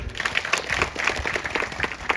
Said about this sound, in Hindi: मैडम के लिए तालियां बजाओ।